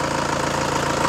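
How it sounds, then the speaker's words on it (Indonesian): A 2011 Toyota Kijang Innova G diesel engine idles close by, a loud, steady rumbling clatter with an even rhythmic knock and no voices over it. "Dan ini untuk suara mesinnya. Ciri khas diesel seperti ini."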